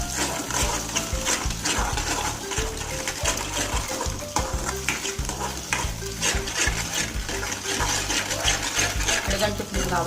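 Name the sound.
stirring egg semiya noodles in a pan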